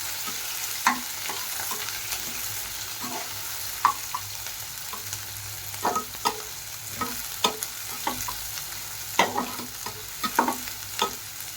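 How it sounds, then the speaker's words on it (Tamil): Sliced onions sauté in a pan for chicken biryani, a soft background sizzle broken by scattered scraping knocks of a spoon stirring, irregular and close, with no voices. "அந்த வெங்காயத்தை நம்ம இதில் ஆட் பண்ணிடலாம். ஆட் பண்ணிவிட்டு இதை நல்லா நம்ம வதக்கி விடலாம்."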